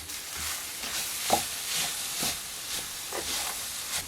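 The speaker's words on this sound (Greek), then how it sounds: "Ανακατεύουμε για μισό λεπτό." Spices, smoked paprika and hot chili flakes, stirred in a hot frying pan: a soft steady hiss of sizzling oil with a few faint scraping strokes of the spoon spaced about half a second apart.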